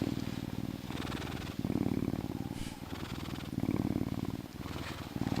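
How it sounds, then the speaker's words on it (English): A giant lynx purring steadily up close, a continuous low rumbling with a rhythmic rise and fall of breaths, fairly loud and alone. "here is a giant lynx cat purring."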